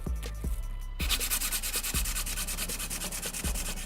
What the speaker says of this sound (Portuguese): Eu vou dar uma leve lixada para deixar minha superfície plana. Aqui eu vou usar uma lixa 200.